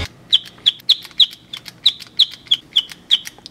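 Rapid electronic tweets from a novelty Harry Potter-style pen imitating birdsong, roughly ten sharp chirps repeated at a brisk, even pace, loud and near with nothing else heard.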